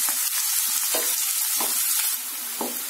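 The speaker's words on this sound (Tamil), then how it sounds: "இப்ப லைட்டா வதக்கிடலாம்." Chopped large onions sautéing in a pan for Chennai vada curry, a steady close sizzle with soft stirring scrapes recurring every half second or so, no voices.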